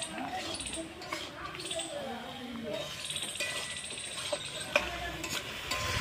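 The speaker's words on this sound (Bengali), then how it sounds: "ভাজা পুঁটি মাছটা আমি এখন পালং শাকে দিয়ে দেবো।" Fried puti fish are stirred into spinach in a pan, giving a soft continuous scraping and gentle sizzle close by, under a speaking voice.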